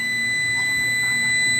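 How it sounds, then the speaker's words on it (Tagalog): A multimeter's continuity buzzer sounds while a fuse in a Crell CA8 power amplifier is tested, giving a steady, shrill electronic tone that holds unbroken at close range with no talking. "Nag-buzzer itong isa."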